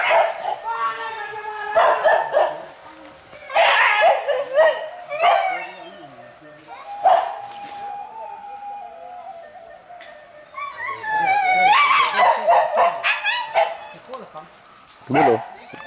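Several dogs barking, yipping and whimpering during a hunt, loud close barks in repeated bursts mixed with higher yelps and a drawn-out howl, with people's voices calling among them.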